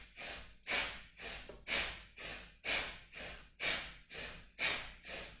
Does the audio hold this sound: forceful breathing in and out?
yes